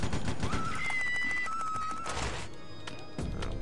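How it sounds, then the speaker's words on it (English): A machine gun fires in the top-down shooter Larva Mortus: a dense, loud burst of rapid shots rattles continuously, with brief electronic tones layered over it. "It's a machine gun."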